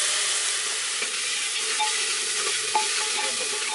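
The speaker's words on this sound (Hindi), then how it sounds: "हुण इन्हां प्याजां अच्छी तरह होन देवांगे" Onions fry in a pan for potato curry, giving a steady, close, dense sizzle with occasional faint crackles and no talking.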